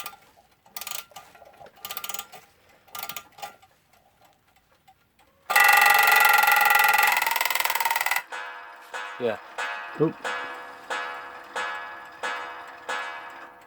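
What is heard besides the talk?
wound-up Seth Thomas alarm clock ticking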